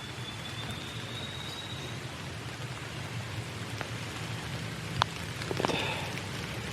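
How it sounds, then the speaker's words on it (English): Heavy rain pours down steadily, a dense continuous hiss of drops on surfaces outdoors in the woods during turkey season, with a couple of sharper nearby drips or taps near the end and no voices. "Flash flood watch, rain for at least 99 minutes."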